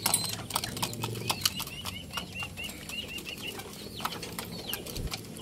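Pigeons flap their wings in repeated quick bursts close by in a backyard coop on a rainy day, with soft cooing and faint background noise.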